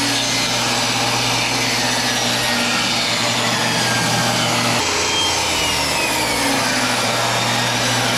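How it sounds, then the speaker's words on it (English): A power saw whines loudly and continuously as it rips a 2x4 in half lengthwise, the motor tone shifting slightly partway through the cut. "let's rip these 2x4s in half"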